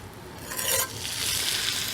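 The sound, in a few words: cowboy steak sizzling in cast iron pan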